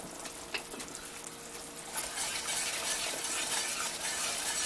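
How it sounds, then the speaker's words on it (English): Caramel icing bubbles at a boil in a pot, a soft crackling, popping simmer that grows a little busier toward the end, faint and without talk. "Now we're back and it's come to a boil."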